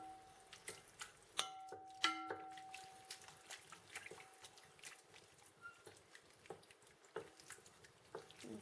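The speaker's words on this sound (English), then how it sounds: "Let's give that a stir." A spoon stirring oil into a cornbread casserole mix in a bowl, giving soft wet scraping and squelching sounds with scattered clinks against the bowl, close and quiet.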